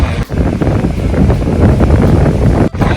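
Strong gusting wind at a beach at Rushikonda, Vizag, buffets the microphone in a steady broadband roar, with a couple of brief dips, over a faint wash of surf.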